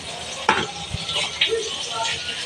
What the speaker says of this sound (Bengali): প্রথমে বেগুনটা ভেজে নেব